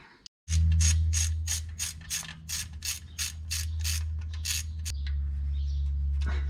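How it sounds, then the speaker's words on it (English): A mini ratchet wrench bolts a part back onto a 1951 Chevy with an LS engine swap, giving about a dozen quick, close, rhythmic clicks, followed by a softer run of ratcheting under a low hum. "My little mini ratchet."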